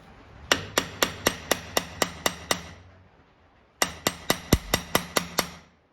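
A hammer drives a seal into a Getrag 260 gearbox with two runs of sharp, evenly spaced metallic blows, about nine in each run, separated by a brief pause. The strikes are close and distinct.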